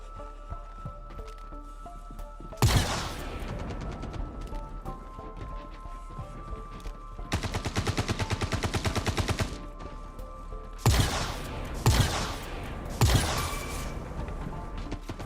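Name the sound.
gunfire in Star Citizen video game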